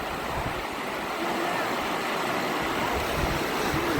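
Cachoeira da Esmeralda, a waterfall in Carrancas, Minas Gerais, pours in a constant broadband roar heard from close by at its top, dense and unbroken throughout.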